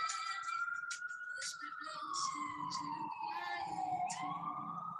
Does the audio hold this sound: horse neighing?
no